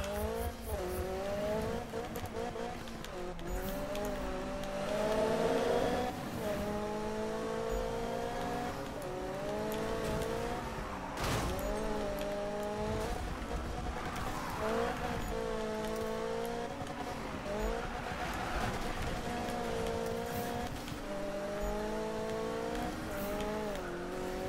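Racing car engines in a Need for Speed game, revving and shifting through gears with rising and falling whines, tire squeal and occasional impacts, continuous and loud.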